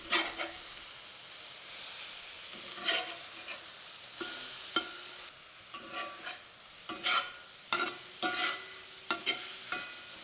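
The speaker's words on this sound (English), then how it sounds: "Now you want to seal that pork round on a high heat." Pork chunks sear in a wok over high heat, a steady sizzle broken by repeated sharp scraping stirs and tosses, close and fairly quiet.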